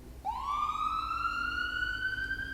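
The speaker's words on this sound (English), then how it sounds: "Ambulance passed around the city." An ambulance siren passing through a city, a single loud rising wail that begins abruptly and sustains as one long upward sweep, nearby and alone with no talk.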